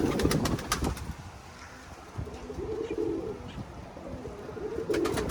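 Domestic pigeons coo and flap during a windy storm, with low cooing tones and a few sharp wing claps at the start and end, close by over a steady rush of wind.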